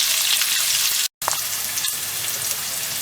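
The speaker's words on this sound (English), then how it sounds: "we're just going to let that cook away until our onions are nice and golden brown." Diced white onion fries in a pan for a homestyle chicken curry, a loud, steady sizzle with crackling pops. The sizzle breaks off abruptly for a moment, then resumes at the same level, with no voices.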